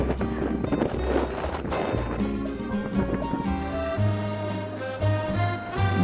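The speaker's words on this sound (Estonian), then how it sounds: "tuul on nii kõva, et ega väga jutust midagi aru ei ole saada." Strong wind roars across a rooftop high above Paris, buffeting the microphone in a steady, loud rumble with gusty surges throughout.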